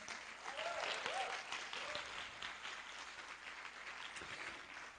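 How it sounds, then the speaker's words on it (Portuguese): A church congregation claps steadily throughout a service, with faint voices and cheers mixed into the sustained applause. "Uma salva de palmas aos nossos visitantes."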